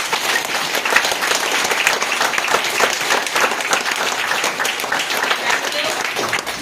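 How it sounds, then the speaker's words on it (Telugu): Audience at a Vestige business meeting clapping together in sustained, dense applause that stays steady and loud throughout, with no pauses. "మరి మన అందరికి కూడా ఉంటే ఒక్కసారి గట్టి క్లాప్స్ కొట్టా"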